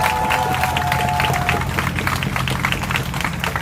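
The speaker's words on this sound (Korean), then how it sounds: "혹시라도 저에게 이런 제 입장을 응원해 주신다면 다시 한번 박수 부탁드리겠습니다" A rally crowd claps steadily for several seconds, a dense wash of hands with murmuring voices mixed in, loud and continuous throughout.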